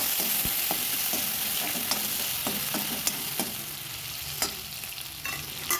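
Ghee and potato sizzling in a kadhai, with steady frying hiss and scattered sharp pops and spatters close by, no talking.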